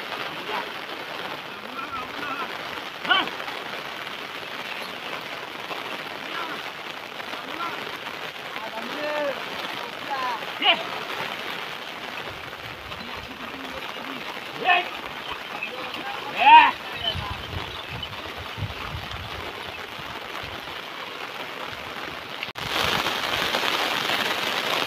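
Heavy rain pours onto rice paddy fields during planting in Konkan, a steady loud hiss of drops on water and mud, with people talking faintly and a few brief louder knocks along the way.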